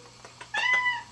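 A house cat lets out a single short, clear meow close by, after a few faint rustles, with no talk.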